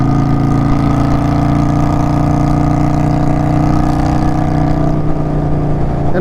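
An Indian Scout Bobber motorcycle rides down a hill on a straightaway, its engine a steady, loud, close droning hum with strong layered tones that shift and ease slightly near the end, with no voices over it.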